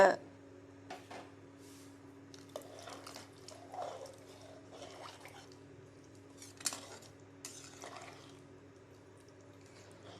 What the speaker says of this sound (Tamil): தேவையான அளவு உப்பு போட்டு நல்லா கலரி விடுங்க.